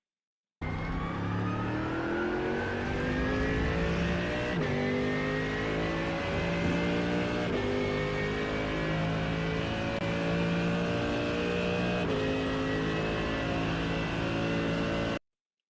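Race car engine in the iRacing sim at Silverstone, held on throttle with a steady high rising drone and layered harmonics, loud and close, with brief shift-like breaks every few seconds and no talk.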